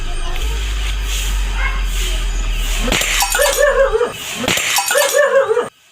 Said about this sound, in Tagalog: Basag lahat ang botella guys.